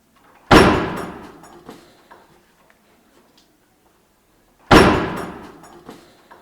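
A door slams shut twice, each a loud, sharp bang with a fading rattle, about four seconds apart in a quiet room during a paranormal ghost-hunting show.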